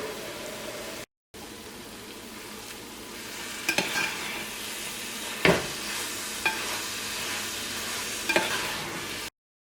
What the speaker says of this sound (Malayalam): കുറേശ്ശെ നെയ്യ് ചേർത്ത് കൊടുക്കുക